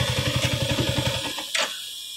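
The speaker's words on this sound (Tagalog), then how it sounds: "So enough pa yung makina para marinig nyo." A Yamaha R15 motorcycle with an overheat warning and a fan relay fault idles close by with a quick, even, throbbing pulse. The pulse fades out partway, then a short sharp click-hiss follows.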